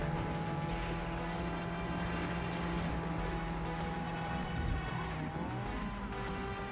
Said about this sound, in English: The stock 240SX sound was so good.